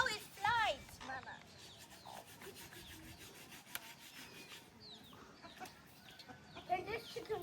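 Chickens cluck in a rural village yard, with a short loud burst near the start and scattered softer clucks later, mixed with rustling, rubbing noise and voices in the background.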